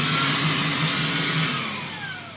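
A Shark Wandvac 2.0 cordless handheld vacuum runs close up with a steady, loud whine and hum that slowly fades and dips toward the end, heard alone.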